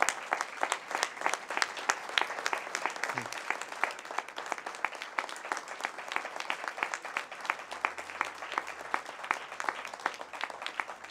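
Sustained, dense applause from a crowd at a Spanish political candidacy presentation, steady and even throughout with crisp overlapping claps at close range.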